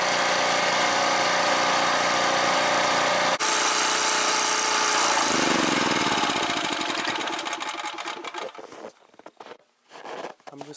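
A scrapyard generator engine idles loudly and steadily while cooling down, then its drone fades, sputters and dies away into a few faint rattles near the end.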